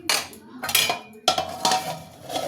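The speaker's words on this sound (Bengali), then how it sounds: "চাপা দিয়ে দিলাম।" A metal lid clatters onto a cooking pan of chilli chicken, a few sharp clanks and scrapes of metal on metal, close and fairly loud.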